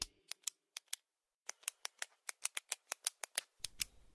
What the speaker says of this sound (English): Here's a clicky pen.